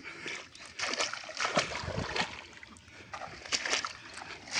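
Feet wading through knee-deep water while crossing a wetland, with repeated splashes and sloshing in an uneven walking rhythm, close and fairly loud throughout.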